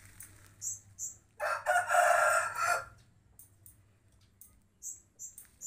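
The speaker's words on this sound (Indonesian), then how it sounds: "Ayamnya banyak ya, ayam bangkoknya, guys ya." A Bangkok-breed rooster in a rice-field village in Muaradua district crows once, loud and close, and a few short bird chirps sound before and after.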